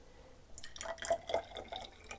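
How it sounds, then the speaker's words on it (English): D23 film developer replenisher is poured from a small jar into a developing tank, a short, quiet trickle of liquid with soft splashes and drips. "I've already poured some into this little jar to make it a little easier for me to pour into here."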